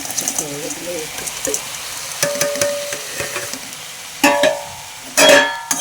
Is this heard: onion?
yes